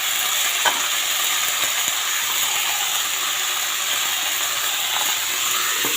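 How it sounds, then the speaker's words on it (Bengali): Potato and cauliflower frying in a pan, stirred with a steady, close hiss of sizzling and occasional faint scrapes of a spatula through the vegetables. "এখন নেড়ে নেব।"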